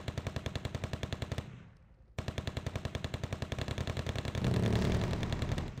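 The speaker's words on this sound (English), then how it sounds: "BM24 is completely immobilized because of the machine gun fire" Rapid machine gun fire in the Wargame: Red Dragon video game: steady rhythmic bursts of shots with a short break, then resuming and growing louder and denser near the end, no voices.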